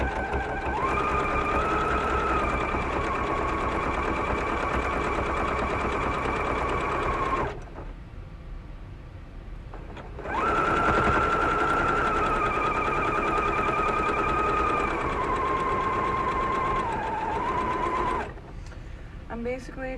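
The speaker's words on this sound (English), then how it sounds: "since I'm doing a zigzag and I'm going to turn a lot, I want the needle to end down when I'm done sewing" A sewing machine stitches a zigzag in two long continuous runs of steady buzzing whir, close and loud, separated by a brief pause of quieter handling.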